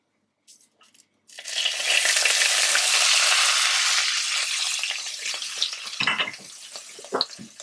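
Very hot oil is poured over ketchup, sweet chili sauce and other ingredients, setting off a sudden loud sizzle. The sizzle holds strong for several seconds, then thins into scattered crackles and pops.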